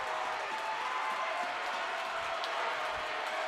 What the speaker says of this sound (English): Kearney student section getting loud.